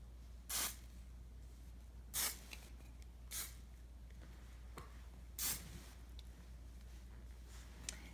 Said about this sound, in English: But for today, I'm just going to do that with hairspray.